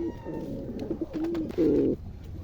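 Pigeons in a home loft coo in soft, throaty bursts, one rolling call swelling louder near the end, close by with faint background noise.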